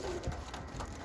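Pigeons coo softly in a loft holding about sixty birds, a single low coo standing out briefly against steady background noise.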